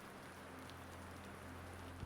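Soft rain falls steadily in a continuous quiet patter, faint and even, with no voices.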